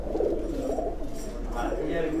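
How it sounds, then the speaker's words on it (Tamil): Tippler pigeons in a Coimbatore fancier's loft give low, continuous throaty coos close by, with faint background voices. "இதெல்லாம் வந்து டிப்ளர் புறாவில் ஒரிஜினல் புறாக"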